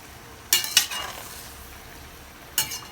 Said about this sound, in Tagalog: Halu-haluin lang natin to mga boss para magpantay at lumasa na rin yung sa ating mga sahog.